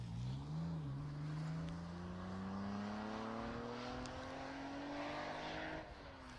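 Renault Clio rally car on an asphalt championship stage, its engine climbing steadily in pitch in one long pull through a single gear, fairly distant, before dropping away.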